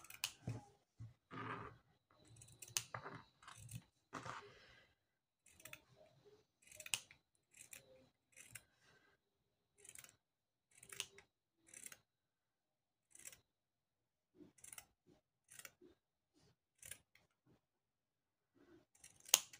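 Scissors cut paper or fabric for a large gnome craft, giving a run of crisp, close snips in irregular bursts with short pauses between them, heard with no talk over them.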